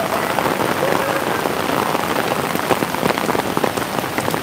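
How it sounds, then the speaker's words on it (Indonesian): Rain falling steadily, a dense, loud patter of drops hitting surfaces that continues without a break, with no voices. "Hujan."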